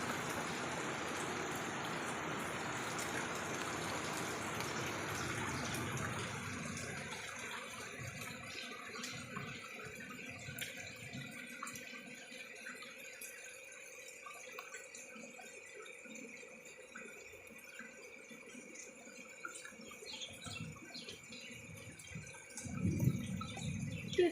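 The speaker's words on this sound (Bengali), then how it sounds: "ওই দেখো, এখান দিয়ে জলের স্রোত আসছে" Floodwater streams past in a steady rushing current after heavy rain in a waterlogged Bengal village, with a broad hiss that settles into a lower continuous flow and a louder splash near the end.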